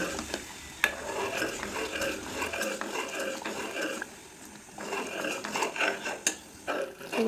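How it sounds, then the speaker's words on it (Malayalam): A thickening mukkutti lehyam mixture stirred in a pan, producing soft scraping and gentle sizzling with occasional clinks of the spoon against the metal, steady and close. "വീണ്ടും നന്നായി ഇളക്കി കൊടുക്കുക ഇളക്കിക്കൊണ്ടേയിരിക്കുക"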